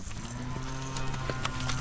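Cows on a cattle farm moo in a long, low, droning call close by during breeding season work, with no talking over it.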